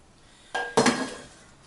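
Meat, mushroom and spinach filling for a butternut squash lasagna tipped out of a pan into a bowl, two quick close clattering knocks and a soft scraping thud, then quiet, no talk.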